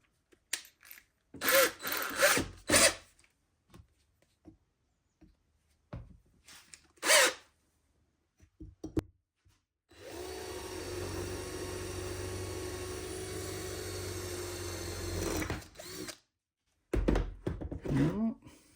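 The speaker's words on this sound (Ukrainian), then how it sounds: "Ну, давайте четвіркою просверлимо." A sustained grinding drill runs steadily for about five seconds through thick metal with a 4 mm bit, bracketed by knocks, handling thumps and brief bursts of noise before and after.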